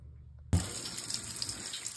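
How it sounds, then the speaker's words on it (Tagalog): Water bursts from a faucet in a house, opened to drain the pipes during copper pipe replacement; after a half-second of near silence it gushes on abruptly in a steady, close, hissing stream. "Susunod mong gagawin, open mo lahat ng faucet."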